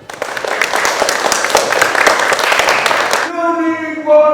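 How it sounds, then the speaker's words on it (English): Crowd applause at a community heritage carnival event, a dense burst of many hands clapping for about three seconds, loud and close, then cutting off as a voice begins speaking. "Applause!"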